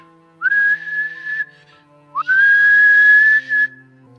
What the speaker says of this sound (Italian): prende il fischietto e lo suona